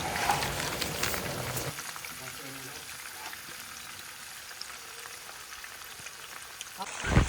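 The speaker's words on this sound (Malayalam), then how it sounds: "വെളിച്ചെണ്ണ നന്നായി തിളച്ചുകൊണ്ടിരിക്കുന്നു." Fish frying in boiling coconut oil, a steady crackling sizzle that runs throughout at moderate level, with a louder burst at the start and a few clatters near the end.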